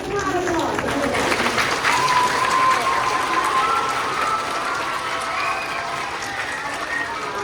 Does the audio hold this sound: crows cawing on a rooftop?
no